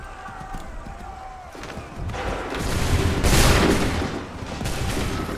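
Musket volleys roll out in a video-game battle from Assassin's Creed 3, with dense overlapping gunfire swelling from a moderate rumble to a louder burst and then holding steady, without voices.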